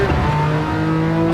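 Porsche 911 Carrera RS (964) engine revving in the Gran Turismo 7 racing game, a sustained high, steady engine note held loud and close for the whole short stretch with no talk over it.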